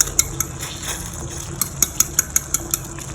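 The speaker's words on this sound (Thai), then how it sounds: "อันนี้ไข่เดี๋ยวเราจะตีพอให้แตก" Eggs being beaten in a bowl with a utensil while making Thai cabbage soup, a string of quick light clinks and taps, faster toward the end, over a low background hum.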